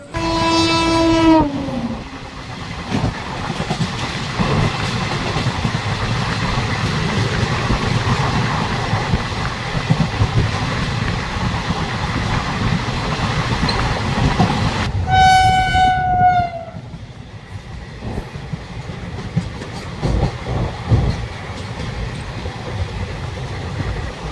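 The Kanchankanya Express stands at Barsoi Junction platform with a steady low rumble, while two loud, long horn blasts sound from nearby trains, one at the start and one mid-way.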